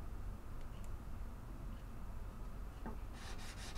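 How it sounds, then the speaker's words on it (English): Hand filing, sanding and scraping on the wooden saddle of an Epiphone Model 3 guitar during a neck reset, a steady close rasping rub with a few brighter scrapes near the end. "I do filing, sanding, and scraping."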